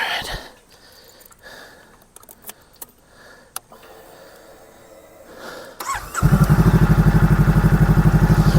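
A 2023 Honda Rebel 500 motorcycle engine cranks and fires after a few seconds of quiet clicks and handling noises, then settles into a loud, steady, even-pulsed idle close to the microphone.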